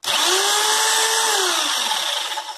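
A Parkside PSBM 750 B3 corded hammer drill spins up from low speed toward its maximum, a loud, steady close-up whine whose pitch rises and then holds, with no one talking.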